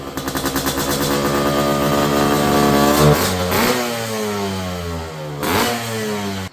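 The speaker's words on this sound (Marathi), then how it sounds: "RX 130 आहे जी की स्टेज 3 ट्यून केलेली आहे." A 1999 Yamaha RX two-stroke motorcycle with a stage 3 tune revs hard, its engine rising through repeated high-pitched sweeps with sharp throttle blips and drops, loud and close, no talking.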